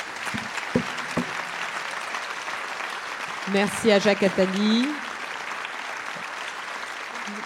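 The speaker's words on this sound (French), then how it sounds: "À Salman Rushdie, que vous pouvez applaudir." Audience applause for Salman Rushdie at the fifth Positive Economy Forum in France fills the hall as a steady, moderately loud wash, while someone speaks French over it through the middle.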